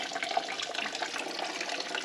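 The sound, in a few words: liquid draining from a truck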